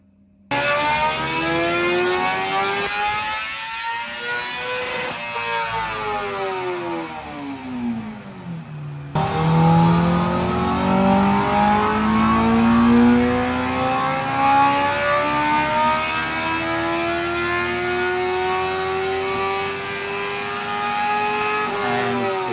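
A 2021 Euro 5 Honda motorcycle engine with an Akrapovic exhaust is revved on a dyno, loud and close, climbing through long rising sweeps and dropping back before another strong pull up through the revs.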